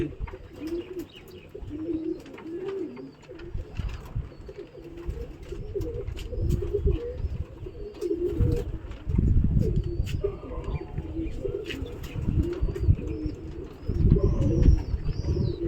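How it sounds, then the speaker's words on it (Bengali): Pigeons coo throughout their covered loft just before release, a dense overlapping chorus of low rolling calls with occasional chirps and rustling, close and continuous for about fifteen seconds. "ফার্স্ট এই প্রথম পায়রা ছাড়বো।"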